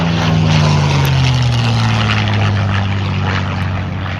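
A Douglas Skyraider, a 2,700-horsepower propeller aircraft, roars past at an airshow in McMinnville, Oregon, loud and close with a droning engine note that drops in pitch as it passes.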